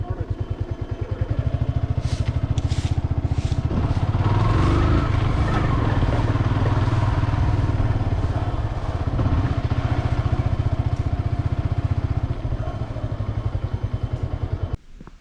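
A motorcycle engine runs close by while the bike is parked, a steady loud throbbing idle with some clatter, ending abruptly, with people talking over it.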